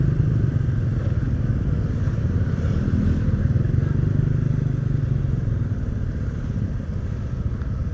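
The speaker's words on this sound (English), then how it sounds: "On board my motorbike here, which I affectionately call the Bad Dream." A motorbike nicknamed the Bad Dream rides along Pattaya streets on a Monday morning, its engine a steady close putter with road clatter and wind, nearby traffic blending in and no talk.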